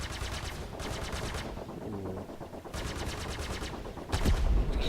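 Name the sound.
gunfire in Star Citizen video game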